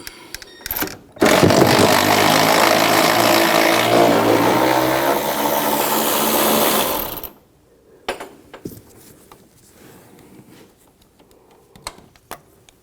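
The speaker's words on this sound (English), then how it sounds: "Once it's loose, then I'm going to switch to a electric ratchet." An electric ratchet whirs loudly and continuously for several seconds while loosening a front upper control arm nut on a 2007-2013 BMW X5, followed by quieter metallic clicks and handling of tools.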